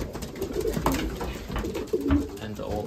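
Racing pigeons coo softly in low, throaty murmurs in a loft, several birds overlapping close by amid some rustling and faint shuffling.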